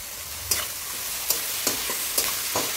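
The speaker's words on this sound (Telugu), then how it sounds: "కొంచెం లైటిష్ బ్రౌన్ అయ్యేంత వరకు వీటిని వేపుకోండి." Ivy gourd pieces with salt and curry leaves frying in a pan, a steady close sizzle broken by several sharp scrapes of stirring at irregular intervals.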